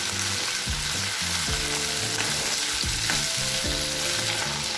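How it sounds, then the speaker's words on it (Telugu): Ivy gourd pieces fry in oil in a pan, giving a dense, continuous close sizzle with no talking and a faint low rhythmic pulse running underneath. "ఈ దొండకాయ ముక్కల్ని ఈ నూనెలో బాగా మగ్గేంత వరకు వేయించుకోవాలి"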